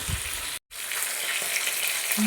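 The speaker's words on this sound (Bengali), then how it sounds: "মাছ আমি এক এক করে দিয়ে দিয়েছি ভাজতে" Hot oil sizzles and crackles steadily as katla fish pieces fry, briefly cut off before the loud frying hiss continues.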